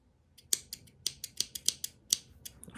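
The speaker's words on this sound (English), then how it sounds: "cut your yarn" Scissors snipping crochet yarn, a quick series of about eight crisp metallic snips in an irregular rhythm, close up and alone.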